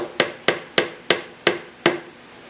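Six sharp hammer taps drive wooden dowels into pocket holes, evenly spaced about a third of a second apart, close and moderately loud with a woody knock and short decay.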